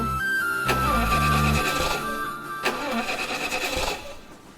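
An engine cranks with a rapid, rhythmic whirring that surges and falls, repeating as it struggles to catch, close and mechanical.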